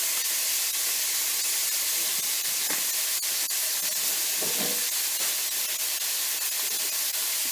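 Beef mince with 20% fat sizzles and browns in a pan for spaghetti bolognese, a steady bright hiss throughout with a few soft scraping stirs partway.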